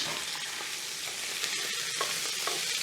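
Beef with a high fat content browning in a hot pot, giving off a steady, close, crackling sizzle with occasional stirring scrapes.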